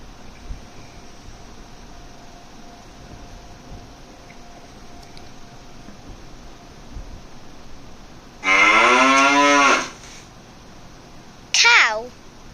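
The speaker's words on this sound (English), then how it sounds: "Cow." A cow moos once in a long, loud, drawn-out call that stands clearly above a quiet background hum, followed moments later by a brief high-pitched voice.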